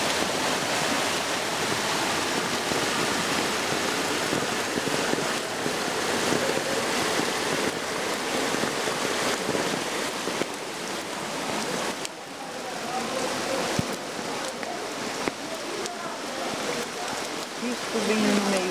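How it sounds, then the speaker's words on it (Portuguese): Heavy rain pouring down with flash-flood runoff rushing through a street in Ibiassucê, Bahia, a loud continuous broadband roar of water and splashing that fills the whole scene. "Olha o barulho da chuva, o barulho da enxurrada."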